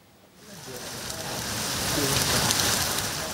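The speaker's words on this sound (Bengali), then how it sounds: "নগরীতে ভোর থেকে হঠাৎ দমকা বাতাসের সাথে শুরু হয় ভারী বৃষ্টি" Steady heavy rain from Cyclone Remal in Bangladesh hissing across surfaces with gusty wind, building in loudness after a quiet start, with a broad rushing wash.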